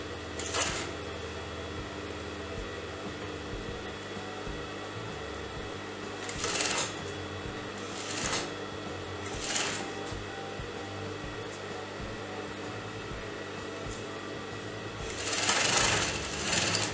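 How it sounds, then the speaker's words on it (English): A sewing machine stitching kurti sleeves hums steadily up close for the whole stretch, a continuous whirring drone broken by a few brief bursts of higher hiss as the fabric is handled. "let me sew that together."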